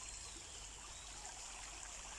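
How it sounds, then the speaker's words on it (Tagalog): A small river stream flows under trees outdoors, a steady, faint broadband rush of water with no talk. "Yung ilog na maliit."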